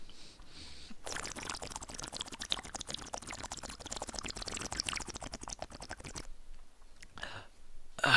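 A plastic water bottle is used to mimic a bong hit, producing a continuous crackling, bubbling gurgle for several seconds, close and fairly quiet, then tapering into softer rustles.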